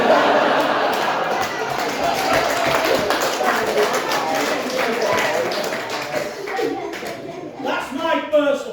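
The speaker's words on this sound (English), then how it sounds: "That's my first applause break." Comedy club crowd applauding during a stand-up set, a dense steady wash of clapping with scattered voices and chatter mixed in, fading slightly toward the end.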